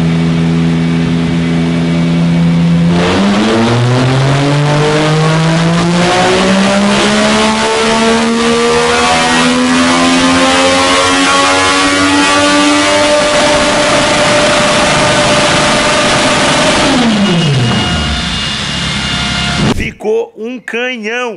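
A new sport motorcycle, up close and loud, revs up with a rising pitch that climbs steadily for about fourteen seconds, then drops sharply back as the throttle closes.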